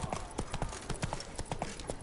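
Roach the horse trotting in The Witcher 3, steady rhythmic hoof clip-clops at moderate volume, close and continuous over ambient game sound.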